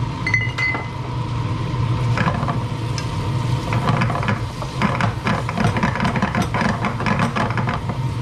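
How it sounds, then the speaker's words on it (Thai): Shiitake mushrooms and prawns with sesame oil are stir-fried in a wok for Hong Kong-style fried noodles, with repeated clinking and scraping of a utensil against the pan over a low background hiss. "แล้วก็ผัดจนกว่าเห็ดจะเซ็ตตัวนะครับ"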